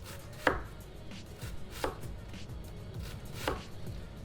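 Knife slicing cabbage thinly for homemade coleslaw on a board, three crisp separate chops spaced about a second and a half apart, clear and close against a quiet kitchen background.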